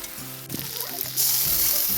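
Paneer and vegetables frying with salt, turmeric and coriander powder in a pan, a close hiss that suddenly grows louder partway through, with scraping stirs and clinks of a utensil, no voices.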